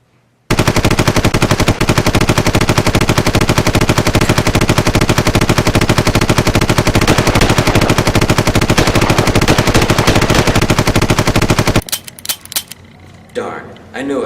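Rapid, loud bursts of prop gunfire rattle almost continuously for about eleven seconds, then cut off into a few scattered clicks and quiet movement.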